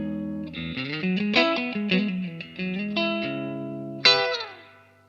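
A Greenheart electric guitar on its bridge humbucker plays a short distorted melodic phrase with chorus and reverb, ending on a bright struck chord that rings out and fades.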